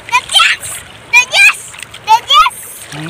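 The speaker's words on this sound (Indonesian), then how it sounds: "siap-siap mau ada ombak lagi, ada ombak" Waves splash and roll onto the sand at Manggar Segarasari beach in Balikpapan, arriving in three or four loud close bursts while a child and others call out excitedly.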